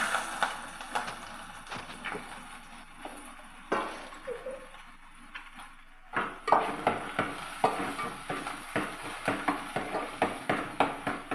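Onion sizzles as it fries in hot oil for a Malvani-style fish curry, a soft frying hiss broken by repeated rhythmic scrapes and taps of a spoon stirring the pan, close and moderately quiet with no talk.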